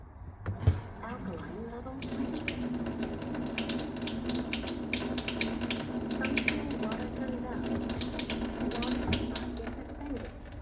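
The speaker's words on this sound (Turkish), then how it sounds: "Örneğin 3. seviyede alkali su almak istiyorum." A Tyent ACE/UCE water ionizer runs a steady, rushing stream of alkaline water at level 3 that starts a couple of seconds in and carries on close and fairly loud, with a faint voice in the background.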